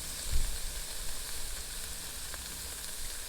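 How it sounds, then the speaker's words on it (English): Turkey bacon frying in a pan gives a steady, fairly quiet sizzle with a soft broadband hiss and faint crackles throughout, and no voices. "let's better get back to my turkey bacon before I burn it"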